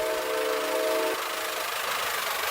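A Santa Fe 3751 steam locomotive in the Roblox game RO-Scale Sandbox gives a steady whistle blast for about a second, then the whistle drops away and a continuous engine rumble carries on alone.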